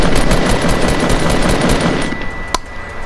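Loud, rapid automatic gunfire in the video game Fortnite, a continuous rattling stream of shots that eases off near the end, with one sharp crack after it.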